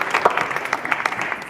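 Audience at a live comedy show applauds a volunteer from the crowd: brief, dense clapping from many hands, fairly close and steady.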